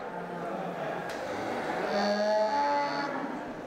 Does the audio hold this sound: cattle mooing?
yes